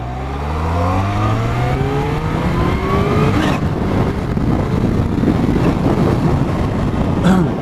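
Kawasaki H2 SX SE supercharged motorcycle on the road, engine revving up through rising pitch, then a steady rumble with wind and some clunking off the throttle; loud and close.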